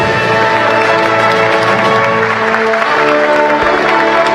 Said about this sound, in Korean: 음악 소리와 함께 또 내외 여러분들의 박수와 환호성 속에 이재명 대통령 내외가 로텐더홀로 입장했습니다